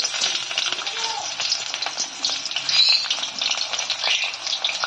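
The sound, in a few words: frying chopped onion in hot mustard oil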